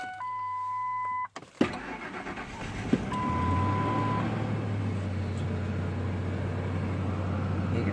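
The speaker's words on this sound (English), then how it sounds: "I'm going to start up the truck." A truck with a check engine light cranks and fires up after a brief chime, then settles into a steady, close idle running on alone.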